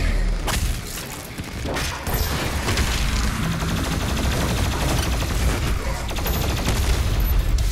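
Rapid gunfire in the video game Doom Eternal crackles in dense volleys, with booms and thuds mixed in, loud and continuous throughout.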